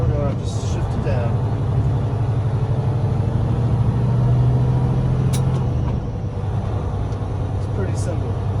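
A heavy truck with a 10-speed Eaton transmission rumbles steadily at low speed as the driver floats a downshift without the clutch, the engine note dropping and changing pitch, with someone talking over the loud cab drone.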